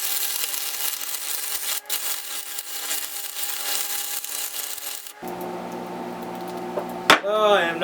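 Metal is welded for a Damascus knife billet, with about five seconds of loud, steady crackling hiss. The noise then cuts off and is followed by quieter sounds and a brief squeal.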